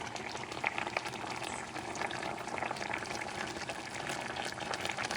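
Fish stew in tomato sauce simmers in a pot, giving a continuous close bubbling and sputtering hiss for several seconds, with no talking.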